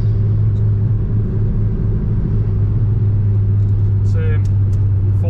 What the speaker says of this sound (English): 14 miles of flat out driving on the track